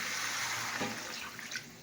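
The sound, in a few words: water poured into a cooking pan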